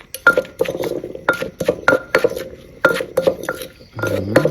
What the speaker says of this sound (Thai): คลุกเคล้าให้เข้ากัน